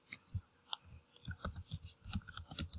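A computer mouse clicks quietly at close range, single clicks at first and then a quicker, irregular run of clicks toward the end.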